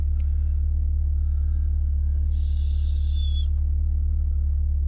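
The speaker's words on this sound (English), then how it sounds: "so we've got the throttles good, nice steady idle, maybe a little bit on the quick side" A Peugeot 205 GTi Mi16 engine idles after a throttle stop adjustment, a steady, close, deep rumble that holds even throughout, with a faint high whine in the middle.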